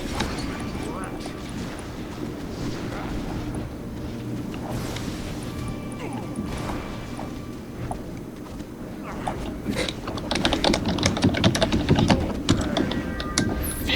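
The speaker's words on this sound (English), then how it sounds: "furious typing." Rapid, furious clattering of computer keyboard keys runs through the whole stretch, growing denser and louder toward the end, heard under a low background murmur.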